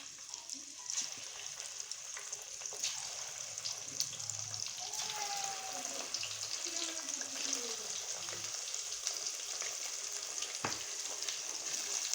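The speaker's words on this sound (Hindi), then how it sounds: "फुल गरम हो चुके हैं, अब हम इसमें डालेंगे अपने चिकन पकौड़ा।" Chicken pakora fry in hot oil, giving a soft, continuous bubbling sizzle with a few small pops, steady and fairly faint throughout.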